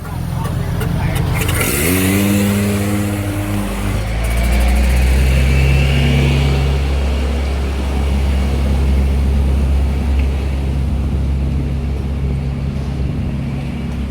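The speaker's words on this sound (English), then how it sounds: "The occasional motorcycle." A motorcycle engine revs and passes close by on a street in Thong Lor, Bangkok, its loud rumble rising then settling into steady traffic noise with some voices in the background.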